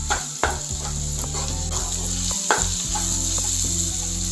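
Finely chopped garlic fries in a pan for besan bhurji with a steady, loud, close sizzle, broken by a few sharp clicks from stirring. No one speaks.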